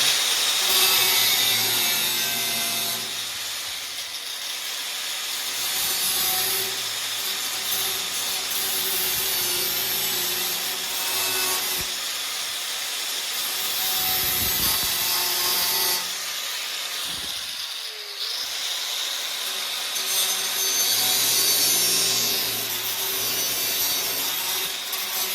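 Harsh, grinding cutting through the car body metal of a 1969 Firebird, loud and continuous with brief pauses and rasping strokes.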